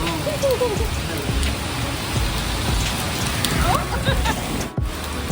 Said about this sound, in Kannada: ನೋಡಿದ್ರೆ ಮಳೆ ಎಷ್ಟು ಜೋರಾಗಿ ಬರ್ತಾ ಇದೆ